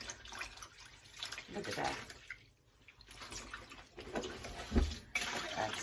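Clothes being washed by hand and rinsed, lifted out of soapy water into a tub of fresh water, with sloshing and dripping water sounds rising and falling in bursts, under occasional nearby talk.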